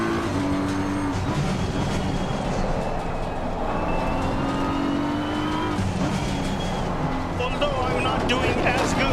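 BMW M4 GT3 race car in Assetto Corsa Competizione, engine roaring steadily through gear changes, with tire squeal and brief skids near the end, a voice talking over it.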